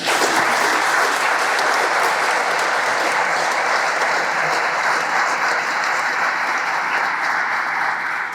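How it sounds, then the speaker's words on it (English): An audience at a Vermont Army National Guard change of command and retirement ceremony gives a sustained round of applause, dense and even throughout with no speech over it. "how about a round of applause, please?"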